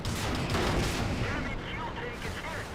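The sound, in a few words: artillery fire in video game World of Tanks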